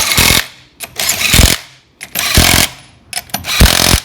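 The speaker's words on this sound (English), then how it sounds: "nuts on at least 5 or 6 turns before you use the rattle gun" An impact wrench tightens the wheel nuts on an HQ one-tonner during a new wheel fitting, firing four loud, close rattling bursts separated by short pauses.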